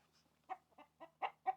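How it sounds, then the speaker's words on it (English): Heritage breed rooster clucking close by, four distinct bursts of clucks in a quick uneven rhythm, fairly loud against a quiet background with a faint low hum. "This is a really pretty rooster."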